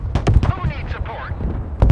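Artillery fire booms in the military strategy game Broken Arrow, loud heavy blasts at the start and again at the end, with radio voices talking between them.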